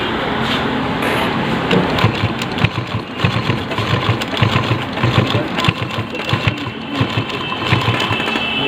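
A household sewing machine stitches thick cloth after a thread-cutting repair, a loud rapid mechanical clatter running steadily for several seconds with quick rhythmic needle thumps.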